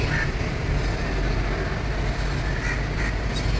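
Kolkata Metro train at Mahakaran station, a steady loud rumble of the carriage running continuously throughout, with no voices.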